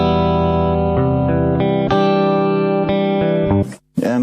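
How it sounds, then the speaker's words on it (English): Ambient guitar loop played through a Boss GT-1000 with reverb, sustained chords shifting every second or so in a smooth loud wash before cutting off abruptly near the end. "I've created a loop using my Ambience guitar."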